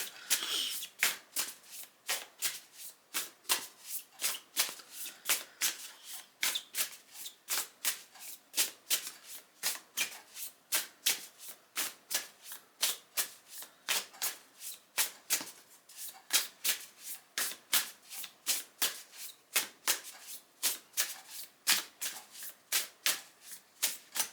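A deck of oracle cards being shuffled again and again, with steady rapid riffling bursts that repeat closely for the whole stretch, crisp and close with no talking.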